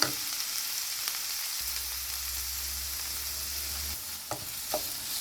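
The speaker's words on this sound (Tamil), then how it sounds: "ஜஸ்ட் இந்த தக்காளியும் வெங்காயம் வதங்கிறது" Onion and tomato saute in a pan for a wheat egg kothu parotta, a steady close sizzle with a low hum in the middle. A few utensil taps and stirring scrapes come near the end, and no one speaks.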